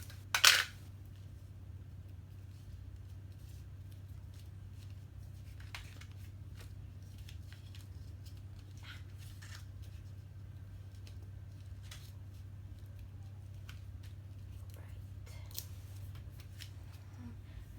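Paper pieces for a large Cricut Explore Air project are flipped over, lined up and taped together, heard as a sharp opening rustle then faint, scattered taps and crinkles over a low steady hum.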